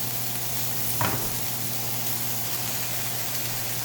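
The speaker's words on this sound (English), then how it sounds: "we're going to go ahead and saute these until they get nice and soft" Diced onions and peppers sautéing in a pan, a steady close hiss of sizzling with a low hum beneath and one brief clatter of stirring near the start.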